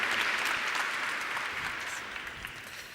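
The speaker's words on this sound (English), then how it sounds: "big round of applause for Daria" Conference audience applauding after the final design presentation of the day, a dense wash of clapping that starts strong and slowly tapers over a few seconds.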